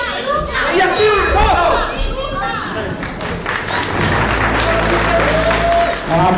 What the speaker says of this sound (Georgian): აპლოდისმენტები დავაჯილდოვოთ ბიჭები